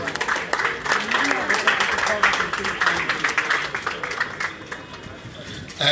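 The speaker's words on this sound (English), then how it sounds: "So you all clap for yourselves." An audience at a book lunch honoring new writers claps in a dense, sustained patter that fades toward the end, with voices mixed in.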